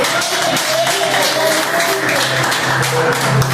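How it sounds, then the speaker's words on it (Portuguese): Church congregation clapping hands together during a worship service, a dense steady wash of applause lasting throughout with voices mixed faintly underneath. "Pode bater palmas."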